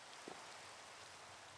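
Soft, steady rain falls in a video game café scene, a fine even hiss with a single tiny tap near the start and no voices.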